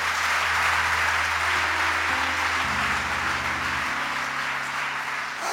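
A church congregation applauds to acclaim Jesus, a dense, steady wash of clapping from a large crowd that holds loud and even throughout, with a faint low hum underneath and no speech.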